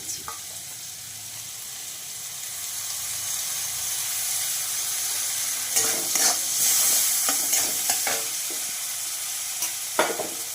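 A soaked spice paste goes into frying potatoes for a Bengali vegetarian banana-flower curry, raising a loud sizzle and steamy hiss, followed by several sharp scraping strokes of a spoon stirring in the pan.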